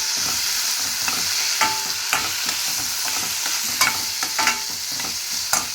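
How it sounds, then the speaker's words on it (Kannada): Finely chopped tomato frying with browned onion for dal tadka, a constant close sizzle broken by a steady series of spatula scrapes and taps on the pan, with no voices. "ಸಣ್ಣದಾಗಿ ಹೆಚ್ಕೊಂಡಿರೋ ಒಂದು ಟೊಮೆಟೊ ಹಾಕಿ ನೀಟಾಗಿ ಫ್ರೈ ಮಾಡ್ಕೊರಿ"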